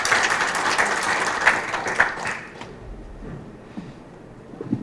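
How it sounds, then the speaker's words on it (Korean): Audience applause at a Korean product safety information open forum, steady broadband clapping from a crowd that swells with a few sharper bursts, then thins and fades to scattered claps after about two seconds. "다시 한번 큰 박수 부탁드리겠습니다"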